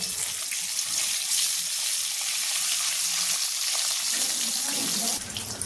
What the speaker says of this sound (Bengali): দিয়ে এখানে যে ডিমগুলো সিদ্ধ করে রেখেছি ভেজে নেব